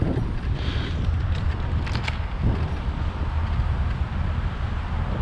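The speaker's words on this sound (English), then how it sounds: "it's super windy here." Steady wind rushes and buffets the microphone in New York City, with a low rumble and faint creaking in the background, no one speaking.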